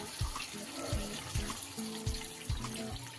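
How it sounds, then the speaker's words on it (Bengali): Water poured into a pan of boiled potatoes and vegetables for a Bengali fish curry, a steady pour with soft splashing and a few dull knocks, fairly close and alone with no talking. "এইবারে আমি দিয়ে দেব জল।"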